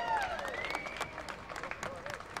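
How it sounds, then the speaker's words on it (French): An audience at an outdoor rally against water speculation applauds, a fairly faint spread of scattered clapping beneath a voice speaking. "Applaudissez-les, s'il vous plaît."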